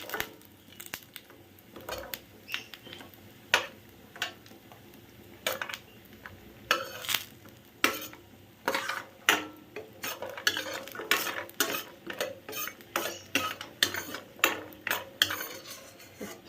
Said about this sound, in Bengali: বড়িগুলোকে একটু ভেজে নেব। একটু লাল লাল করে ভেজে নেব।